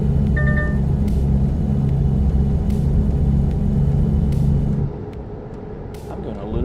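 An inline-five truck engine in American Truck Simulator runs with a steady low rumbling drone and faint harmonic tones, which drop off toward the end, while a voice talks over it, with a few short clicks.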